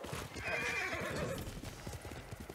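A horse in the video game Ghost of Tsushima gallops with quick clip-clopping hooves and lets out a loud, high whinny partway through, the hoofbeats continuing close and steady afterward.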